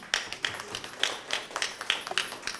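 A small audience at a corporate felicitation ceremony gives a round of applause, with sparse, uneven hand claps close by and no voices over them.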